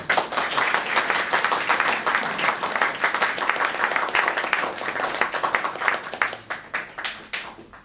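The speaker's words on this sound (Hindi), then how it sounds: "एक बार इन सब प्यारे बच्चों के लिए तालियों के साथ उनका उत्साह।" After a children's theater production, an audience gives sustained, lively applause, with the crowded clapping holding steady before tapering off at the end.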